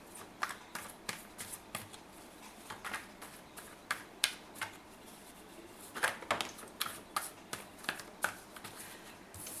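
Tarot cards being shuffled, handled and drawn, giving a run of quiet, crisp flicks and slaps in uneven bursts, close and soft, with no talking.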